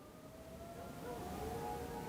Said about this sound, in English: there's an ambulance or something out there